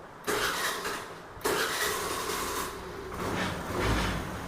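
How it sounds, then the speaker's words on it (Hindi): A Honda Activa scooter's electric self-starter cranks the engine in two or three close, loud bursts of whirring mechanical noise separated by short pauses, with no talking. "अब हमारी गाड़ी का जो सेल्फ है वो प्रॉपर वर्क कर रहा है"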